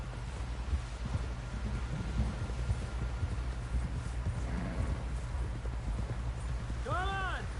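Horse hooves clip-clop steadily across the ground in Red Dead Redemption 2, carrying an injured John toward camp, beneath character voices and urgent calls for help, with a brief horse whinny near the end.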